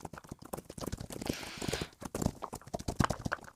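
Horses gallop in the Roblox game Wild Horse Island, a fast, dense run of hoofbeat clip-clops in rolling rhythm, close and steady throughout with no voices.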